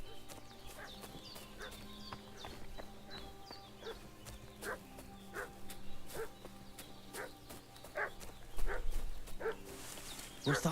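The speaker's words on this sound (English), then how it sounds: "What's that dog making such a fuss about?" A dog barks repeatedly in the medieval game Kingdom Come: Deliverance II, sharp faint-to-moderate barks spaced in a steady rhythm, with horse hooves clip-clopping alongside and no talk.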